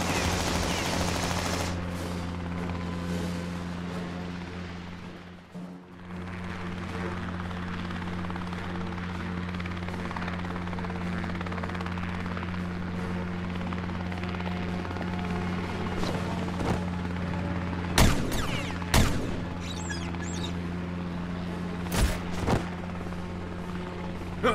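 Sustained gunfire from HYDRA soldiers in a Lego Daredevil animation, a dense continuous battle din under a steady mechanical hum, with a few sharp louder cracks standing out near the end.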